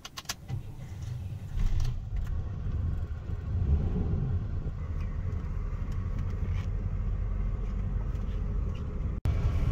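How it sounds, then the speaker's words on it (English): A Chevy TBI motorhome engine drives down the road, a steady low rumble with road noise that holds for the whole stretch and has a brief dropout near the end. "what we're going to do is just drive the coach and get it up to operating temperature"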